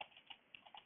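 Light, faint keystrokes tap on a computer keyboard in a sparse, uneven rhythm, with a handful of separate clicks at close range.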